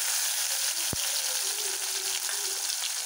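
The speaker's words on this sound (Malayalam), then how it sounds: "ഉള്ളി, ചുമന്നുള്ളി ചതച്ചതിട്ട് കൊടുക്കാം." Crushed shallots frying in hot coconut oil alongside mustard seeds and dried chillies for a Kerala-style thoran, giving a steady close sizzle with one sharp pop near the start.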